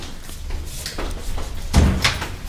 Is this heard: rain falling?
no